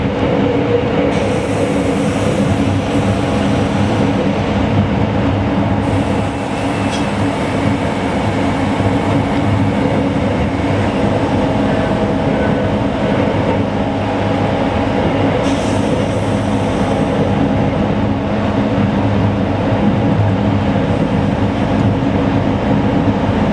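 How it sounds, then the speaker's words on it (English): Passenger train travelling from Granada to Madrid, heard from on board: a loud steady rumble of wheels on rails with rhythmic clatter and occasional higher squeals, continuous throughout. "The following morning found us on a train leaving Granada for the capital city of Madrid."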